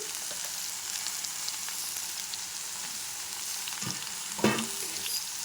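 Bottle gourd pieces cook in a pan with a steady soft frying sizzle and occasional stirring scrapes, including one sharper clatter near the end, with no talking.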